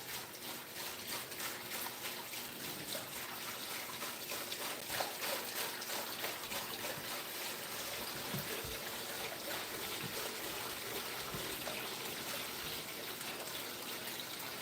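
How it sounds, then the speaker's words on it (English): Water poured from jugs into a 30-gallon Waterbox aquarium gushes and splashes continuously, a steady close rushing pour that stays even throughout. "dumping jugs"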